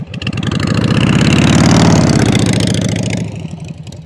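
A motorcycle engine runs close by during a riding lesson in Uruguay. Its loud, throaty idle swells slightly in the middle, then eases back toward the end, with no talk over it.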